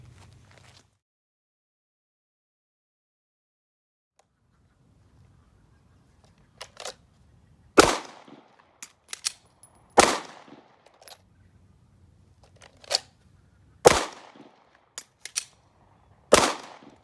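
A gun is test-fired from an Alien Gear Rapid Force duty holster: four or five sharp, loud shots spaced a couple of seconds apart, with fainter clicks and handling noise between them and quiet stretches before.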